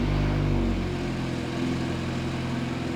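A 2019 BMW 330i with its exhaust downpipe removed revs loudly, a strong engine drone that swells early and then settles into a steady, rough mid-pitched hum.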